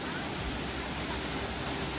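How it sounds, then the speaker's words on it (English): Steady, close roar of a North Queensland waterfall pouring into a waterhole, a dense broadband rush that holds constant throughout with no voices over it. "we made it down to the waterfall"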